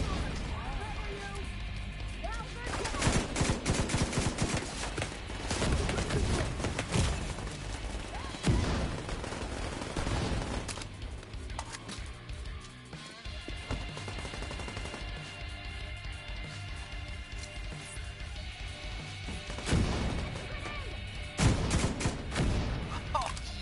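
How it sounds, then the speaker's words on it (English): Gunfire in The Division 2 comes as loud rapid bursts and rattling volleys, with crashes and impacts under steady talking between players. "You're just shooting people and I'm not looking."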